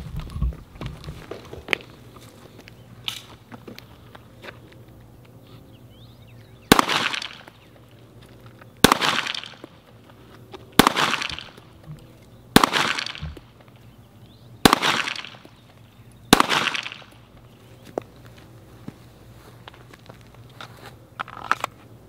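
Six sharp, loud pistol shots from a Smith & Wesson M&P M2.0 fired at 15 yards, spaced about two seconds apart, each followed by a short ringing echo in an otherwise quiet outdoor setting.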